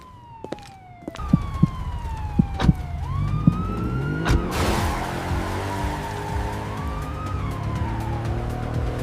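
A police car siren wails and sweeps up and down, fairly distant at first and growing stronger, with short sharp knocks and rattles nearby at the start.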